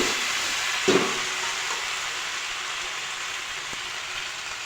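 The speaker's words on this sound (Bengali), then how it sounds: "এখন আমি এটাতে জল দিয়ে দিচ্ছি" Vegetable curry of jackfruit sizzles steadily in a pan as water is poured in, with a brief splash near the start and a constant broad hiss throughout.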